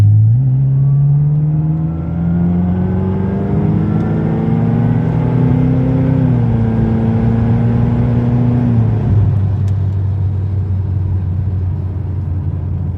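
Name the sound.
2010 car accelerating hard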